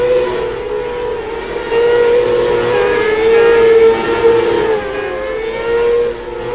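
Micro sprint race cars racing on a dirt track, a loud sustained engine whine that holds a steady pitch and swells and dips as the cars pass, with no voices.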